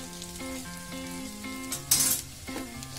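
Poha (flattened rice) frying with turmeric in a pan, a moderate sizzle with stirring scrapes, a brief burst of hissing in the middle, and a steady tonal hum running beneath.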